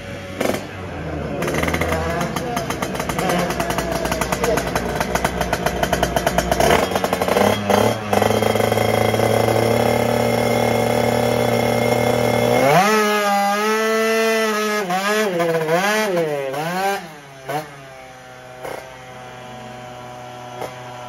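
Motorbike and scooter engines at a scooter rally, a loud steady idle that shifts pitch, then an engine revving up and down repeatedly before cutting out, close and dominant with little else audible.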